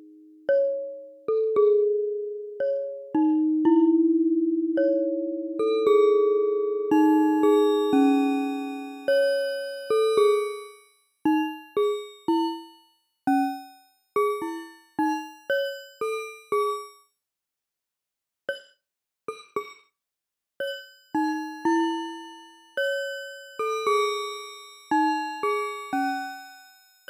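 A Chromaphone 2 percussive synthesizer with its resonance raised plays bell-like resonator tones: clear, ringing struck notes in a melodic sequence, each decaying smoothly, some layered into chords, with occasional brief pauses and no talk.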